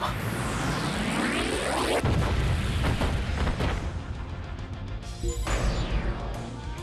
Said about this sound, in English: Oh, a mega bomb.